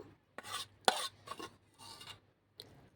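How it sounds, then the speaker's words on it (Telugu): Hot rice mixed with garlic chili powder on a plate by hand: a few short, soft rubbing and squishing strokes, close and quiet, separated by brief pauses. "ఇప్పుడు మనము ఇదే ప్లేట్లో కొంచెము వేడివేడి అన్నం వేసుకొని తిందాము"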